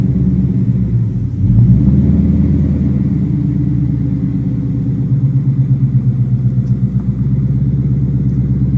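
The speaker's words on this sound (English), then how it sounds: "Ooh, I can hear that cold air intake." A 2019 Ford Mustang GT V8 fitted with a cold air intake rumbles loudly and steadily close by as the car pulls away, with a pulsing low engine note and no talk over it.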